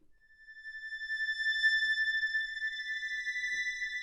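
A soft, airy synthesizer lead holds a pure, glassy tone that swells in and sustains with gentle shimmering pulses, alone and without any voices.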